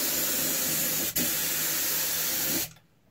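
Spray paint hisses steadily from an aerosol can held about nine inches from the surface, loud and continuous, with a brief break midway before the spray stops.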